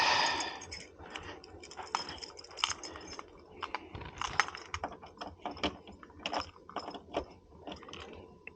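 A large bunch of keys jangles and clinks near the open hood of a car, in irregular metallic bursts and rattles, close and fairly quiet, with no talking.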